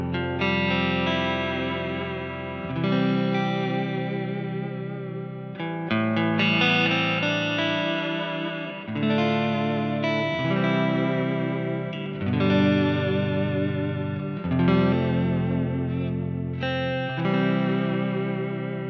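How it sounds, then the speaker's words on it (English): An electric guitar plays chords and melodic phrases through a Keeley Hydra pedal set to plate reverb with vibrato, giving a wavering, washy sustain and lingering tails across a continuous passage with no talking. "Let's go to the plate reverb and the vibrato."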